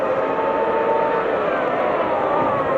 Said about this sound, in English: we continue to enjoy the sound of the Formula One cars